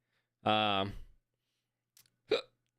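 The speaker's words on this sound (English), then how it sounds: "I got the hiccups now, chat." A man hiccups once, sharp and close, after a brief vocal sound, in a quiet room during live casting of a BTK versus TFB match.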